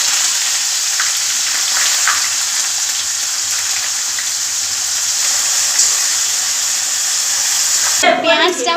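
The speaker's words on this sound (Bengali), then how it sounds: "পেঁয়াজটা ভাজা হয়ে গেছে" Onions frying in a pan of hot oil with whole spices, a steady dense sizzle throughout, ending with a brief clatter of stirring.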